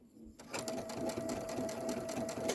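A Baby Lock sewing machine fitted with a convertible free-motion foot starts up and sews a locking stitch. Its close, steady motor hum carries a fast rhythmic ticking of the needle.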